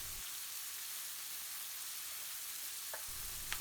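Cumin and other ground spices hiss and sizzle steadily in hot oil in a pan while making a British Indian restaurant-style dopiaza, with a soft scrape of stirring near the end.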